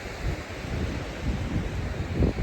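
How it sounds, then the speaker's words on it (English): Strong gusty wind buffeting the microphone on a rock lookout above a harbour, a continuous low rumbling roar that rises and falls in gusts. "Up here because it's so windy."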